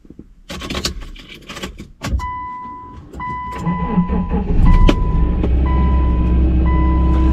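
A wrecked Subaru idles after an engine swap, the motor starting up and settling into a steady, close, fairly loud run with some whirring and clatter, plus brief handling noises at the start.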